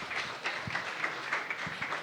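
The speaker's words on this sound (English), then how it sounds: "Let's give a round of applause." An audience at a post-quantum technology side event applauds in a soft, scattered patter of clapping with a few sharper individual claps.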